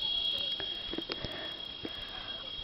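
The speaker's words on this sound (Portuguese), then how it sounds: "se você estiver ouvindo esse barulho, ó, é a cigarra." A cicada on a yard with chickens gives a steady, high, shrill buzz that runs unbroken through the whole clip, with faint scattered taps and rustles beneath it.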